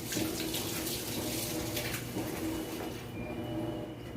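Tap water runs steadily into a sink for several seconds as hands are dampened during bread making, a close, continuous splashing flow that fades slightly near the end.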